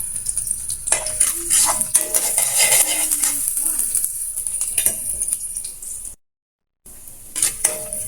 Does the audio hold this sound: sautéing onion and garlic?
yes